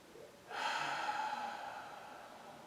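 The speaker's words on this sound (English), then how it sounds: "Do a couple deep breaths in through your nose and out through your mouth." Deep breathing in a seated relaxation exercise: one long, steady breath of airy rushing noise starts after a short pause and holds for about two seconds, close and fairly soft, with no talk over it.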